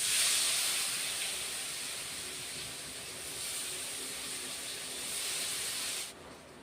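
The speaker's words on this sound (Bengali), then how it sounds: "কড়াইতে দিয়ে দেব পনির একবারে তো এতগুলি ভাজা যাবে না" Paneer pieces fry in oil in a wok for a paneer and cauliflower vegetarian dish, giving a loud, continuous sizzling hiss that eases slightly before cutting off near the end.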